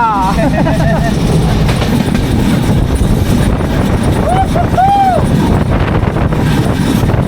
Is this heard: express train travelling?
yes